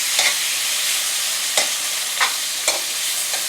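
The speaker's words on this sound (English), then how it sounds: "now we're going to get the beef in here" Sliced beef for pepper steak frying in a hot pan, a steady sizzle broken by four spaced scraping stirs with a utensil, close and fairly loud, no talking.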